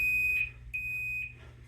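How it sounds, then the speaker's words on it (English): A digital multimeter set to continuity gives two clear high-pitched electronic beeps, a short one followed by a longer tone, against a quiet low hum. "Put your multimeter on continuity so you get a beep"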